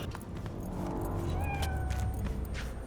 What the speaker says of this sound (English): Oh, a kitty.